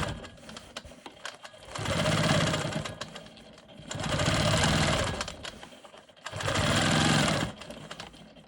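Sewing machine quilting straight lines on a rolling stone quilt block: three even, moderately loud runs of fast buzzing stitching, each lasting about two seconds, with brief pauses between them.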